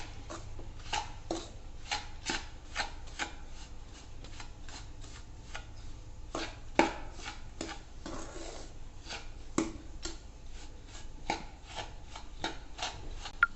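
Sugar being stirred into a rice flour barfi mixture, with repeated scraping and rubbing strokes of a spoon against a pan in an irregular rhythm, close and fairly quiet, with no talking.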